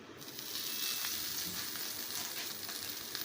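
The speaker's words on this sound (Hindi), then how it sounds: "इसको हल्का सा फिर हम फ्राई कर देंगे।" Egg cheese bread sizzles and fries in melted butter in a pan, a steady close crackle without pause and no talking.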